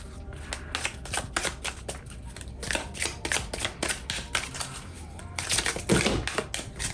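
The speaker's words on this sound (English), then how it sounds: "we're gonna throw just a couple more cards just to see what's going on" Wisdom of the Earth oracle cards shuffled and drawn by hand for a tarot reading: a close, steady run of quick papery flicks and riffles that grows louder and more rustling near the end.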